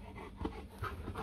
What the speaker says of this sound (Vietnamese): Nô nhau nó hầm hè nghe nó như là hai con hổ.